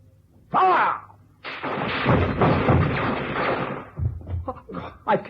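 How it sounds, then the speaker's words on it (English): A loud, sustained burst of gunfire from a firing squad in a radio drama, aimed at a man's chest, roars for a few seconds after a brief shouted command, then dies away into scattered thumps. "On my command, you'll fire one burst at Cannon's chest."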